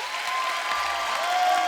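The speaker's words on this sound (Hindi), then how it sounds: "जोरदार तालियों से स्वागत कीजिए" A studio audience at a comedy show claps in a dense, steady burst of applause welcoming a celebrity guest, filling the space evenly from start to finish.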